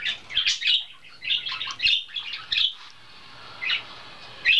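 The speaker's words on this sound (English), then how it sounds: "A lot of bird flying over here." Several birds chirp and tweet in quick bursts outdoors, with soft wingbeats as they fly overhead, the calls coming in clusters and then thinning out to occasional single chirps.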